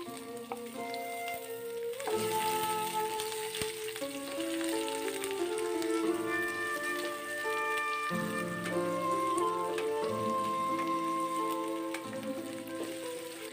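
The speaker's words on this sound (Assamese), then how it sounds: "তাৰ পাছত পিঁয়াজ আৰু নৰসিংহৰ পাত দি অলপ ভাজি ল'ম" Onion and curry leaves fry in hot mustard oil with fennel seeds for an Assamese lesera bhaji, a soft, steady sizzle running quietly underneath louder melodic background music throughout.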